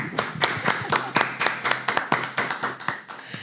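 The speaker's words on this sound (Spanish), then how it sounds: "vamos a recibir con un fuerte aplauso al licenciado Robinson Cuello" A small audience claps to welcome a guest speaker, a lawyer, at a talk on the Dominican Republic's new rental law, with steady, closely spaced claps at moderate volume and no voices.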